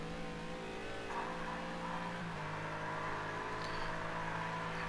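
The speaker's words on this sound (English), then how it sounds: "The McLaren doesn't sound like it's in great shape either." A McLaren race car's engine drones steadily in a racing video game, a continuous mid-pitched hum with layered harmonics and a slight shift in tone partway through, heard alone without talk.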